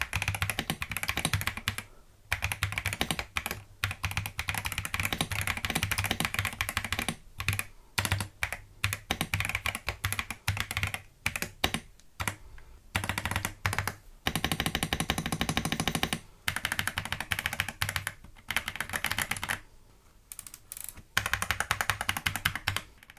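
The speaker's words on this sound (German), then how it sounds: "Und hier haben wir jetzt einen ersten Soundtest der Tastatur." Steady, close typing on an EPOMAKER RT100 mechanical keyboard fitted with Budgerigar switches, dense clacking keystrokes in continuous bursts separated by a few short pauses, with no voices.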